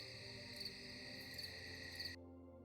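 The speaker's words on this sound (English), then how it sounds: "Just some crickets and things." Crickets chirp steadily at night in a high, continuous shimmering chorus with faint pulsing, holding level for about two seconds before cutting off abruptly to near silence.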